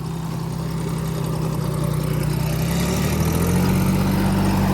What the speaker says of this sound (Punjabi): ਟਰੈਕਟਰ ਬਿਲਕੁਲ ਆਰਾਮ ਨਾਲ ਚੱਲ ਰਿਹਾ